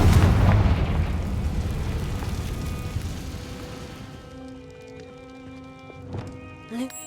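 A loud blast from the Confringo blasting spell erupts in a Harry Potter video game, a big booming burst at the start that rumbles and slowly fades into quieter ambience with a few small pops.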